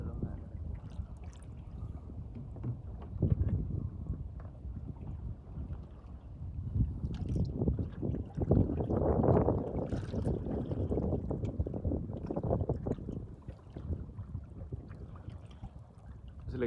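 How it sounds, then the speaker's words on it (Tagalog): Strong wind buffeting the microphone on the water near Sumilon, with boat motion and sea noise, loud and gusty throughout while people talk over it. "Kusog na hangin."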